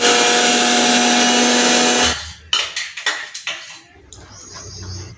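A mixer grinder whirs loudly and steadily while grinding cashew paste, then cuts off and is followed by a series of sharp knocks and clatters as the jar is handled.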